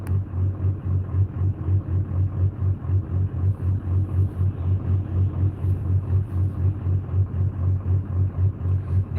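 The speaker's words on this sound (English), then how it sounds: "Can y'all hear my diesel?" A diesel engine runs steadily in the background with a low, pulsing rumble that throbs evenly and stays fairly quiet, and no voices are heard.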